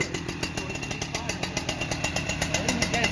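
Husqvarna 3120XP chainsaw running hard while cutting wood for firewood, a loud, steady high-pitched engine whine with rhythmic pulsing, close and continuous.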